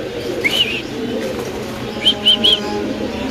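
Pigeons in a breeder's loft give short calls, one near the start and a quick cluster of three later, over a steady hum of background noise.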